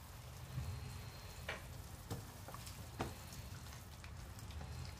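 Spicy pork liver and intestine adobo simmering in a reducing, thickening broth, a steady low sizzle and bubble with a few sharp utensil clicks and scrapes from occasional stirring, close and fairly quiet with no talking.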